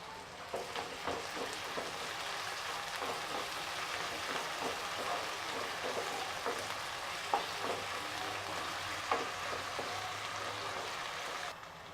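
Onions and green chillies sauté with ginger garlic paste in a pan for egg thokku, giving a steady soft sizzle with intermittent stirring clicks and scrapes, moderately close and with no voices.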